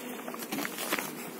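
Honeybees hum in a soft, continuous buzz close by at a hive of young bees, with faint scattered rustling and tapping underneath.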